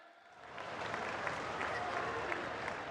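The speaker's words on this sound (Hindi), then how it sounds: "सभी से आग्रह, जोरदार ताली बजाएं।" An audience at a political rally for a tribal assembly breaks into applause that swells within the first second and holds as steady, dense clapping.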